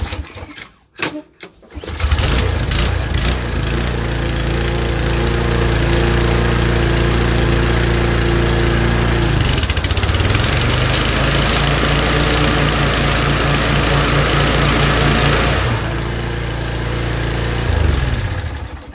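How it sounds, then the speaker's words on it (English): A brand-new Toro TimeMaster 30-inch lawn mower engine starts after a brief stutter and runs at a steady, loud drone close by, shifting pitch midway and rising again near the end. "that's the brand new Toro TimeMaster 30-inch mower"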